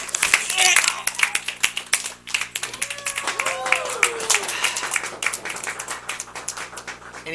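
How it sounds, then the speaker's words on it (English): A live audience claps at a variety entertainment show, with dense, rapid applause running steadily throughout. A voice talks over it and makes a few sliding vocal noises. "it really helps, too, if you start clapping as it goes down my abdominal system"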